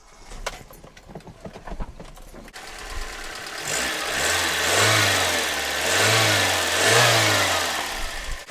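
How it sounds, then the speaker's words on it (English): A Toyota engine fitted with new spark plugs is cranked after a few clicks and handling noises, catches, revs up in several rising surges, then settles toward a steady running drone, with no talk. "So we start the car and see what happens."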